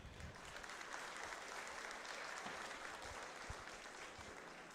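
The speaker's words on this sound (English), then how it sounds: "Give these 4-Hers a round of applause." A crowd at a county 4-H fair showmanship program claps in a steady round of applause for the young exhibitors, sounding faint and distant throughout.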